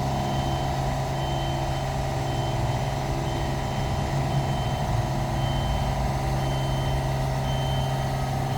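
A lift reversing in a parking lot gives regularly spaced electronic warning beeps over a steady engine drone and hum, continuous throughout.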